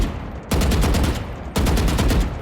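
Vandal rifle in Valorant firing two sustained sprays of rapid, evenly spaced shots, loud and close, with a brief gap of quieter sound before each burst and no talking.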